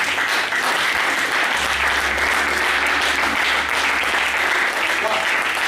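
Church congregation applauding and cheering for the Lord during a sermon, a dense, steady roar of clapping and voices that fills the whole stretch at constant loudness.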